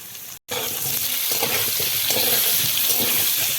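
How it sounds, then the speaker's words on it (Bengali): Potatoes fry in hot oil with a little turmeric and salt, giving a loud, steady broadband sizzle that runs almost continuously after a brief silent gap near the start, with faint stirring scrapes and no talking. "এই তেলে আমি আলুটাও ভেজে নেব সামান্য একটু হলুদ দিয়ে দেবো সামান্য একটু লবণ"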